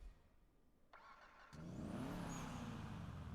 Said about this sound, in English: the engine startup is so fucking pretty